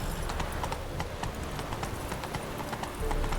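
Horse trotting in The Witcher 3 video game, a quick, steady clip-clop of hooves repeating evenly and fairly close, with no voices over the hoofbeats.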